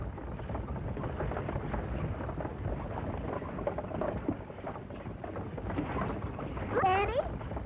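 Steady heavy rain hisses throughout a 1934 Western serial scene, with a low thunder rumble swelling beneath it and a brief voice near the end.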